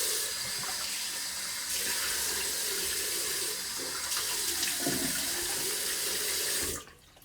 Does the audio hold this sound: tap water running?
yes